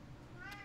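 A house cat gives a single short meow toward the end, faint and close, over a quiet low background hum.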